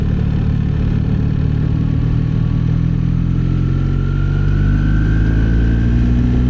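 A BMW R 1300 GS Adventure motorcycle cruising in fifth gear, its engine a steady, loud, low drone that climbs gently in pitch as speed builds, mixed with wind rush heard from the rider's position.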